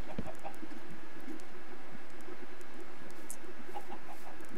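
Chickens in a video game give short, scattered clucks over a steady, flat game background, moderately loud and close, with no one talking.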